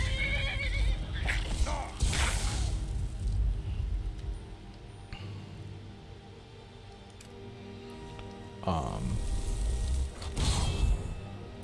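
A horse in Skyrim whinnies loudly twice, early and again near the end, after being hit, over a low steady background of game ambience and hoof noise.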